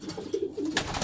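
Pigeon coos in a breeding loft of homing pigeons, a few soft low rounded calls close by, alone without talk.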